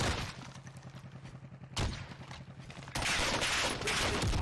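Bursts of rapid gunfire rattle in the Warzone video game, with sharp clustered shots and a louder, denser volley near the end, and no talking over them.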